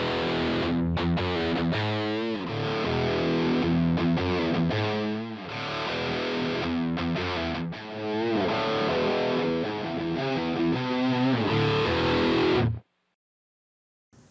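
Several reamped tracks of distorted electric guitar blend in a mix, giving thick, loud, sustained crunchy chords with rhythmic chugging changes for about thirteen seconds before cutting off abruptly to silence.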